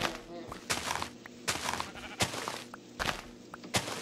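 Sheep bleating in Minecraft, several short repeated bleats at a steady pace, fairly close, alongside game noise while a person talks.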